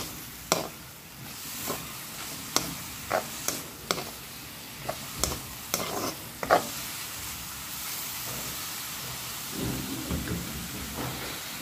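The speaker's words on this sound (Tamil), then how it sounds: "இந்த எக்கை இதோடய மிக்ஸ் பண்ணிக்கொள்வோம்." Egg being stirred and fried together with a vegetable mix in a pan, a continuous soft sizzle broken by sharp spoon taps and scraping knocks against the pan, ending in a low rumbling shuffle.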